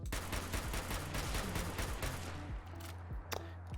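Modded combat rifle replacement firing in Fallout 4, a rapid string of loud, sharp rifle shots in an uneven burst with a deep low thump on each, a few spaced final shots near the end, no talk.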